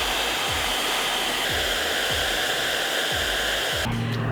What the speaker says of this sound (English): we're gonna go ahead and use this blow dryer to heat up the tape a little bit since it is cold